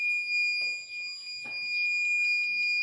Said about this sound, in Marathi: हा डोर अलार्म वाजत आहे